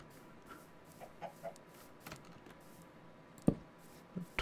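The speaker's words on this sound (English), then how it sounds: "There's a chicken." A chicken in the Minecraft video game clucks a few faint, scattered times amid quiet ambience and soft clicks.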